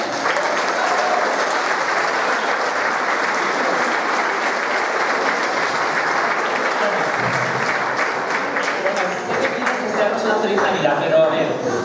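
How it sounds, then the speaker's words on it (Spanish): Loud, sustained applause from a crowd greeting Santa Claus at a Christmas concert in Puntallana, steady dense clapping throughout with voices mixed in. "Un fuerte aplauso para el Papá Noel"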